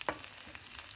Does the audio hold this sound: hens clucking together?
no